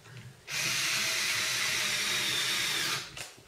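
Electric screwdriver driving screws into a remote launcher kit, a steady whirring motor burst of about two and a half seconds, close and loud, stopping cleanly with quiet before and after.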